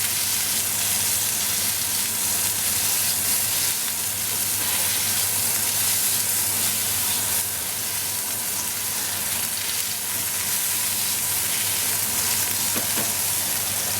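A burger patty sizzles loudly in hot, smoking oil, a dense, steady crackling hiss that fills the whole stretch without pause or speech.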